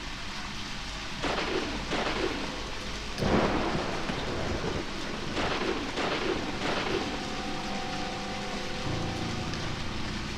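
Steady rain falls with several rolling thunder crashes, one loud clap around the middle, in the video game Deadly Premonition, with no talking.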